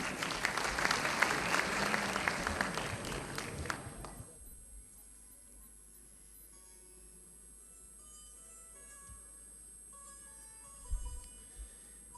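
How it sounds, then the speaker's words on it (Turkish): An audience gives loud, dense applause to welcome a poetry reciter at a recital, clapping for about four seconds before it stops abruptly into a quiet room with faint stray noises. "Alkışlarınızla"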